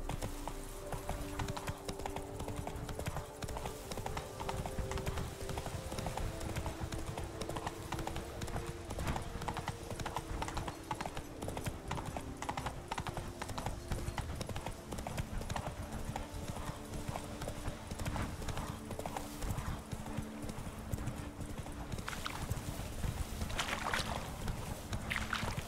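Horse hooves galloping in The Witcher 3 video game, a rapid continuous clip-clop rhythm with rushing wind, running steadily throughout at close range.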